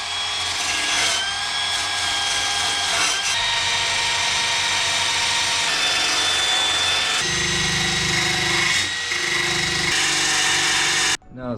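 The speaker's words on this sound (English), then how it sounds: "Got to grind down right here still." Power tool grinding rust off the body of an Acura TSX, a steady loud whine that holds for about eleven seconds, shifting pitch and load partway through before cutting off abruptly.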